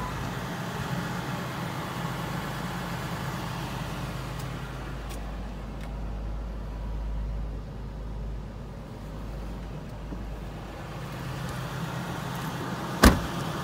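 A Ford F150 pickup truck engine idles low and steady at close range, a quiet continuous rumble with a sharp knock or click near the end.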